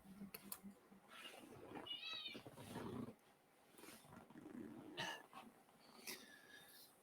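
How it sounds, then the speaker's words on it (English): A noisy, chunky pet house cat lets out several loud, drawn-out meows close by, with short gaps between the cries and a little background rustle. "That's the cat. That's the noisy one."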